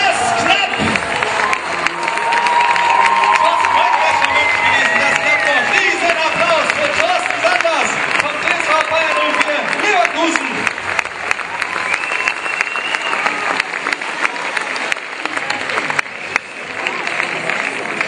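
Stadium crowd at a high jump competition applauding and cheering steadily after an attempt, a dense, loud wash of clapping with scattered shouts and whoops and a voice talking over it.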